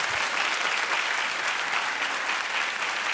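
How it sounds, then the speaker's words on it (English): A television talk show studio audience claps steadily and loudly, a dense, continuous burst of applause with no voices over it. "keep clapping for Tracy Morgan."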